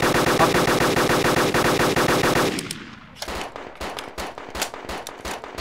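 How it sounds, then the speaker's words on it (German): An M2 heavy machine gun in the video game DayZ fires a sustained, loud, rapid burst, then continues in a few shorter, scattered shots with a trailing echo. "Ganzes Magazin auf dem M2 haben wir gehauen"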